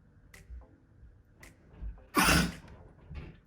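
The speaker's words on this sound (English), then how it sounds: "I'm going to sneeze" A single sharp human sneeze bursts out loudly near the middle, surrounded by quiet room sounds and small breaths during a makeup session.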